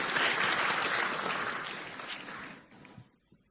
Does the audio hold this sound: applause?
yes